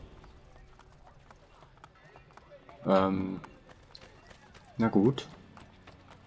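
Horse hooves clip-clopping in Assassin's Creed Brotherhood, two short loud bursts of galloping steps a couple of seconds apart, with someone speaking briefly over the game sound.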